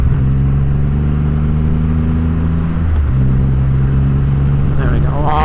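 A Triumph Rocket 3R motorcycle engine pulls hard along narrow, bumpy country lanes, a loud close steady drone with a brief gear-change dip midway, under wind rush and occasional talk.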